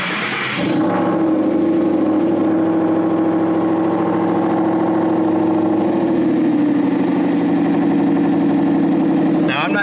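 A Ford 5.0 V8 fitted with a Boss 302 intake manifold idles steadily and close, a deep, even rumble holding for about nine seconds after a brief rev at the start.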